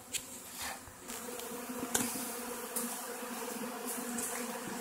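A steady buzz of many honey bees, poured from a vacuum into a box, fills the air, continuous and moderately loud, with occasional individual bees zipping close past.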